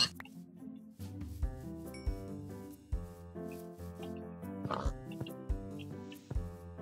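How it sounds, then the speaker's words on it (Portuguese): Pig oinking in the Minecraft video game, brief grunts heard over a steady melodic music track that dominates the scene. "Ah, tem porco."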